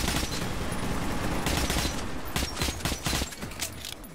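Loud, rapid bursts of automatic gunfire from the video game Metro 2033 Redux crackle back to back and fill the whole clip, with no voices over them.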